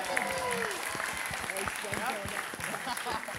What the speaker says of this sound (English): Round of applause for Mitch back here.